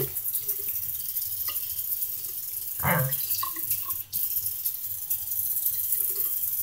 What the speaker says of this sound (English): you're going to rinse out your wig's hair. All that soap needs to come out.